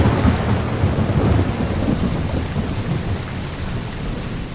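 A thunderstorm sound effect with heavy rain: dense, loud, steady downpour under a low rumble of thunder that gradually eases slightly, with no voices.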